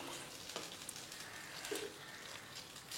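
Tempering spices sizzle softly in hot oil for curd rice, a faint steady crackle with a few small pops, no voices.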